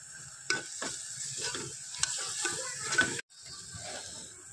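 Spices sauté in a hot pan for a broad-bean bhuna, giving a continuous sizzle with rhythmic scraping stirs. The sound cuts out briefly near the end, then the frying hiss resumes, with no voices.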